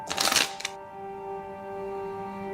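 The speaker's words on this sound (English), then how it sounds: "Maybe shuffle again, Dr. Powell." Uno cards get a quick, close riffle shuffle lasting about half a second, followed by a quiet, steady hum.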